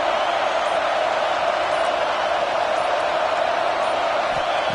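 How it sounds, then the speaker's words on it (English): Stadium crowd at a college football game, Texas A&M against LSU, roaring as a steady, dense wash of noise with no breaks, loud and close all the way through. "listen to this crowd noise. This stadium is vibrating."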